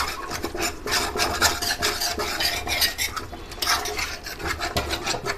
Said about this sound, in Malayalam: ഞാൻ ജസ്റ്റ് ഇങ്ങനെ ഈ ഹാൻഡ് മിക്സർ വെച്ചൊന്ന് മിക്സ് ചെയ്തെടുക്കുവാണ്